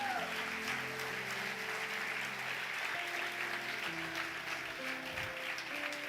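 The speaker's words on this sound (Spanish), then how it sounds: "¿Cuántos pueden dar un aplauso fuerte a Jesús?" A church congregation claps for Jesus during a sermon, a steady wash of many hands over sustained keyboard or organ chords, continuous and moderately loud without clear talk.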